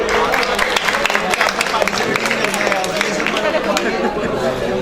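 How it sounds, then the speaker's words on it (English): Quiz-show audience at an entrepreneurship conference applauding a winner, dense steady clapping mixed with crowd chatter throughout, fairly loud and close. "Guys, let's clap for him."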